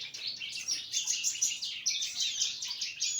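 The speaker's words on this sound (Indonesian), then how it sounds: "Kalau itu udah mulai bikin lagu, pada bunyi, pada ngeriwik." High, rapid chirps of young bar-winged prinias chatter continuously, many small calls overlapping into a busy twittering with no voices.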